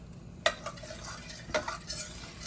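Home-canned tomato sauce being stirred into a hot cooking pot, with two distinct utensil scrapes against the pot over a faint background sizzle, close and moderately quiet.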